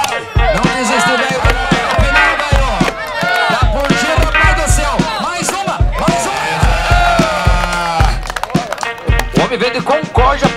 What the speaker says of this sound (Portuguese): O homem veio de Concórdia pra rachar lenha e cortar lenha, rapaziada